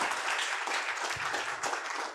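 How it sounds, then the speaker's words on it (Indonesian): Audience applause at an Indonesian business seminar, a dense steady patter of many hands filling the whole moment at moderate level, with no talk over it. "tepuk tangan dulu dong buat Bapak Ibu ya"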